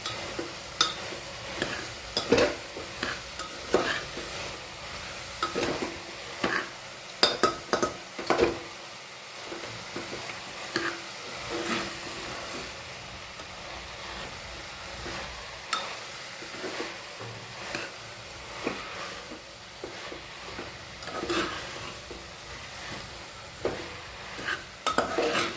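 A spoon stirs a cabbage mixture for muthiya in a pan, giving a long run of soft, irregular scrapes and clinks with a faint sizzle underneath, close but fairly quiet.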